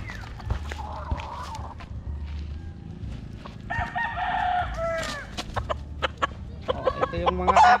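Roosters crow and hens cluck in a busy poultry yard, with several overlapping calls near and farther off against steady background noise.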